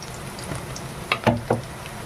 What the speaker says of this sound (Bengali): এবার একটু ভেজে নেব খুব বেশি ভাজবো না পেঁয়াজ মরিচটা